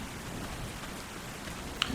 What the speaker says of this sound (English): Of course, it's going to rain.